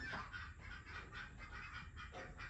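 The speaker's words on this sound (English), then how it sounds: "Oh, those are ducks." Domestic ducks quack and honk outdoors in a series of faint, distant calls that rise and fall, with no talking.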